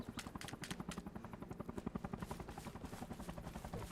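Helicopter in a multiplayer video game, a loud rotor chop beating in a steady fast rhythm throughout, with faint gunfire mixed into the battle noise.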